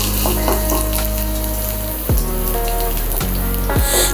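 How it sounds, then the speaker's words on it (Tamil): Garlic cloves fry in a spoonful of oil in a pan while paneer starter is prepared, giving a steady close sizzle with a few clinks and stirring scrapes throughout. "பூண்டு கொஞ்சம் ஃப்ரை ஆகட்டும்."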